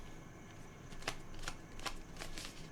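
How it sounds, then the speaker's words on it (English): A deck of tarot cards is shuffled by hand in several quick riffling bursts, close and crisp against a quiet room, with short pauses between each pass. "I shuffle"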